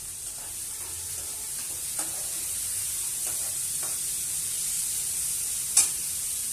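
Green peas tip into a hot pan of oil in a home kitchen and sizzle steadily, a close frying hiss with light stirring scrapes and a brief clatter near the end.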